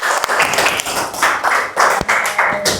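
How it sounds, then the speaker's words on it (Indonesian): Classroom students clapping for a classmate after a presentation, a dense burst of applause that runs steadily for a few seconds with slight swells and sharp individual claps poking through. "tepuk tangan"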